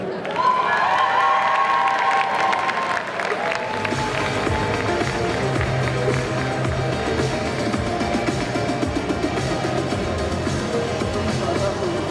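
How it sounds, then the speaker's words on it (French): Loud, sustained applause and crowd noise fill the space at a cosplay competition, with cheering over steady clapping after a brief burst of music at the start. "je vous demande d'applaudir bien fort Gilgamesh et Berserker"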